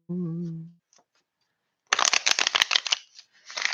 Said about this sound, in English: want to make sure they're good and shuffled